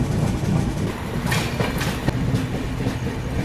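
A Superfast Express train runs on rails from New Delhi toward Banaras, heard from inside a 2AC coach, with rolling rumble and a few sharp clickety-clack wheel beats over the track joints.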